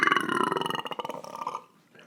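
A long, loud, rumbling burp rolls on for about a second and a half with a rapid pulsing rattle, then tapers off into near silence.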